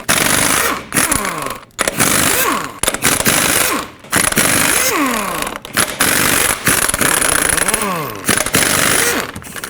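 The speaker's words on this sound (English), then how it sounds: "use your 22mm socket and remove all 8 of your lug nuts" A 22mm socket on an impact wrench chatters and buzzes loudly in repeated bursts while lug nuts come off a 2008-2010 Ford F-250, with short pauses between nuts.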